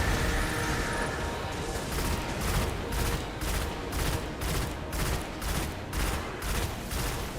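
Shotgun fire in the video game Destiny during a solo run of a veterans' prison challenge, a dense nonstop barrage of shots and blasts that stays loud and close throughout, with no voices.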